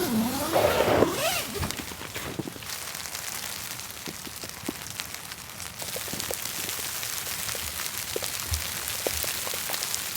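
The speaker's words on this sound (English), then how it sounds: "It's almost snowing. It's sleeting, half snow." Sleet patters steadily on a tent during winter hot-tent camping, a dense close hiss of icy drops across the fabric with scattered sharper taps, continuing throughout with no voices.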